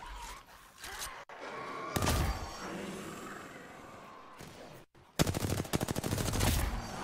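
Rapid video game gunfire bursts out loud and close in two clusters, with a quieter stretch of rumbling game sound between them and no talk over it.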